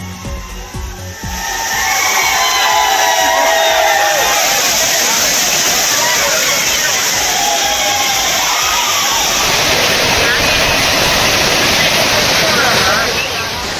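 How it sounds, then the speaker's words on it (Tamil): Loud, continuous roar of a waterfall with tourists bathing beneath it, a dense rushing wash close by, with crowd voices and cheering blended into the water noise throughout. "சுற்றுலா பயணிகள் மகிழ்ச்சி ஆரவாரத்துடன் ஆடி பாடி குளித்தனர்"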